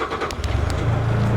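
A 2021 Bobcat S76 R Series rubber-tire skid steer loader with a two-speed drive sits with its engine running, a close, steady low rumble that rises slightly near the end, with no talk.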